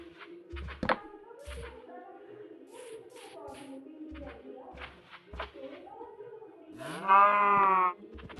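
A cow moos in the Minecraft video game, one long bellowing call near the end over a bed of game sounds and scattered soft thumps, while people talk throughout.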